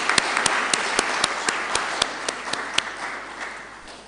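An audience at a university inaugural lecture applauds, a steady wash of many hands clapping in a hall, with a few sharper close claps standing out, fading slightly toward the end.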